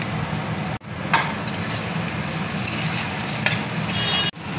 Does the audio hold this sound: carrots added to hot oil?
yes